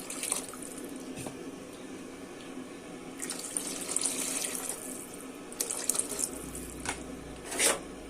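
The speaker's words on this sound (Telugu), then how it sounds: "వాటర్ పోసుకుందాం." Water from a tap runs and splashes into a vessel while pappu charu is being cooked, a steady stream with brief louder gushes and a drip near the end, no voices.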